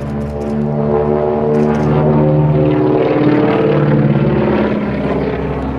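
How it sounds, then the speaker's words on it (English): Beech 18 twin-engine propeller airplane making a rolling pass at an air show, its radial engines a loud, steady droning roar with strong harmonic hum throughout, sustained and close, no talk. "This will be a rolling pass."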